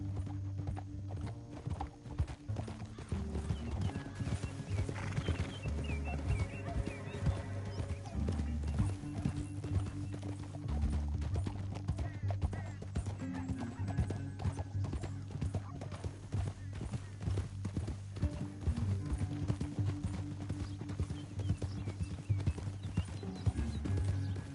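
Horse hooves clip-clop steadily in Red Dead Redemption 2 as riders travel through a canyon, a continuous rhythmic plodding over a low drone, with an occasional whinny and faint voices.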